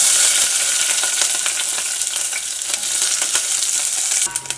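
Onions sautéing in hot coconut oil for a home-cooked meal make a loud, close, continuous sizzle broken by scraping stir strokes, with no talking.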